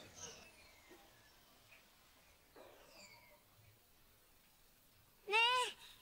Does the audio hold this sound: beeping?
no